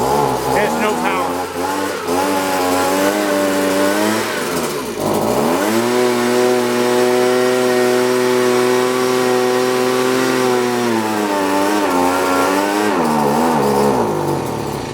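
Stihl BG65 leaf blower two-stroke engine running steadily with the choke off, a loud continuous buzzing drone that dips briefly in pitch midway and then rises again.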